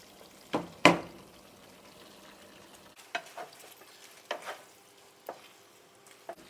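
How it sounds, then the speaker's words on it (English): A utensil stirs stir-fry vegetables in a pan on high heat, a low steady sizzle underneath, with a sharp knock near the start and a few scattered scrapes and taps, close and alone. "now I'm going to stir it well."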